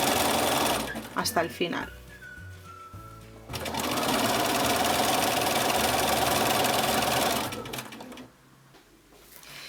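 A sewing machine runs along a T-shirt sleeve seam, a close, loud mechanical whir in bursts then one long steady stretch, with a voice speaking briefly near the start.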